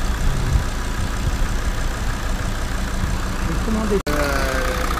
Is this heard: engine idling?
yes